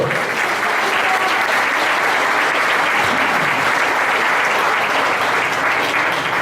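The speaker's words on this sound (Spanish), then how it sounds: "Denle un fuerte aplauso al Señor." A large church congregation at a Hallelujah Night gathering applauds loudly and steadily, a dense wash of clapping that holds at full strength from start to finish with no voices breaking through.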